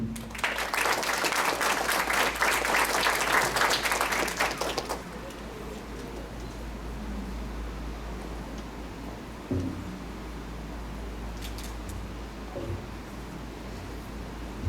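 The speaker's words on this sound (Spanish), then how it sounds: "vamos a recibir con un fuerte aplauso al expositor doctor José Antonio Caroyo" Applause welcoming the speaker, Dr. José Antonio Caroyo, at a lecture on criminal law dogmatics and oral litigation, loud dense clapping for about five seconds, then a low steady hum with faint scattered noises.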